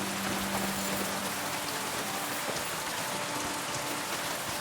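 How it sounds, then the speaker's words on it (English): Rain pours steadily in the medieval video game Kingdom Come: Deliverance 2, a dense, unbroken hiss of drops striking surfaces, with no speech over it. "unless it's raining like it is now"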